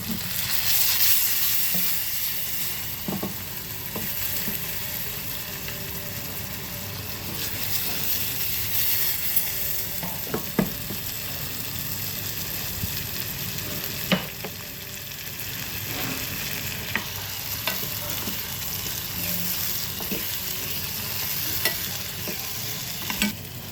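Oil sizzles and crackles steadily in a pan as a tadka is tempered for dal, with occasional stirring clicks, moderately quiet and continuous, no voices.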